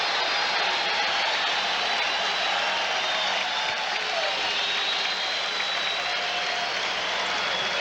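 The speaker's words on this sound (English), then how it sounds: "Fans applaud that play by Michael Jordan." Arena crowd applause from basketball fans at a 1988 Bulls–76ers NBA game in Philadelphia, greeting a Michael Jordan steal. A steady, dense wash of clapping and crowd noise holds at the same level throughout.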